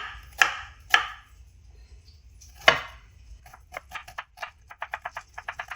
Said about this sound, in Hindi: एक प्याज ले लिया। अब इसकी भी कटिंग कर लेंगे।